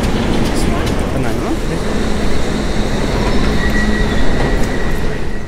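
A train rumbles steadily through a London rail journey, loud and close throughout, with wheels squealing faintly and a constant mechanical roar filling the whole stretch.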